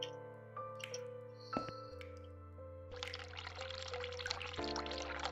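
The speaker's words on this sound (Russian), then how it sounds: "Так, мы включили воду." In the video game The Cat Lady, a tap is turned on and water starts rushing in a steady hiss partway through, over low, droning game music tones.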